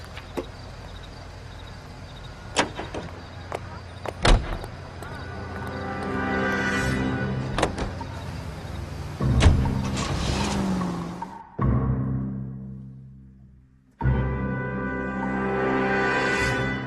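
Car door thuds and an engine revving as a 1940s-era police car pulls away in the detective game L.A. Noire, with a sustained motor drone, a brief cutout, then renewed engine noise.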